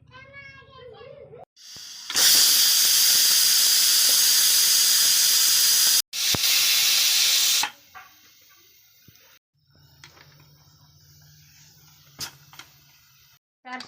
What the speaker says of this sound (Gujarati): સીટી થઈ ગઈ છે